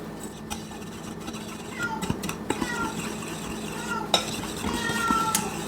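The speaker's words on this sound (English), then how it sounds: "Don't mind the crying cat in the background." A cat cries intermittently in a home kitchen while dry bread ingredients for a Dutch oven loaf are stirred in a bowl, with scraping and clinking of utensils and a person talking nearby.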